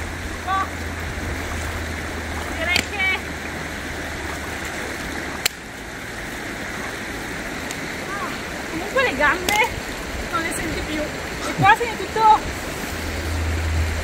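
Swimmers splash in a cold mountain stream, with brief bursts of splashing over the steady rush of flowing water as people talk and call out nearby.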